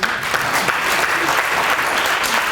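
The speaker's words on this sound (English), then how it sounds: "Everybody clap with me." Audience at an MLK Jr. oratorical contest clapping together, a dense, steady burst of many hands held at even loudness throughout.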